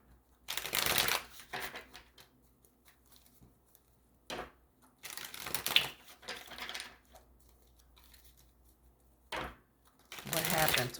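Several decks of cards being shuffled in quick riffling bursts, close and crisp, with short gaps between bursts and a soft voice murmuring in the quiet moments.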